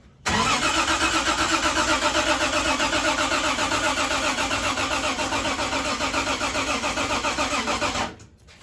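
A primed 1973 Triumph TR6 engine cranks in a close, loud, steadily pulsing run for about eight seconds before cutting off abruptly.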